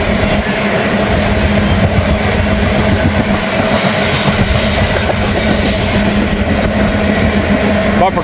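NS freight train rolling past close by, a steady loud rumble with rhythmic wheel clatter throughout, brief talk over it.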